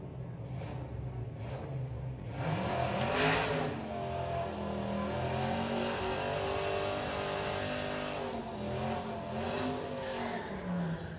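Drag racing launch at Santa Pod Raceway with a Subaru Impreza wagon and a Toyota Supra: loud engines roar and rev up hard, rising in pitch as the cars accelerate away, with brief tyre noise, sustained throughout.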